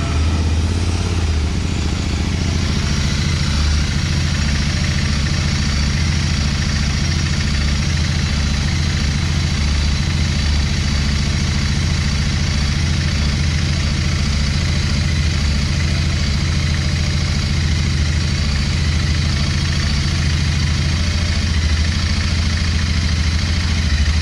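A Royal Enfield Interceptor GT 650 motorcycle with baffles fitted idles in a steady, deep, even rumble, close and unbroken throughout, with no talking.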